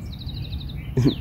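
Birds chirping at Halifax Harbour in the morning, a quick repeated series of high notes, fairly close, over a low background rumble, with a brief louder sound near the end.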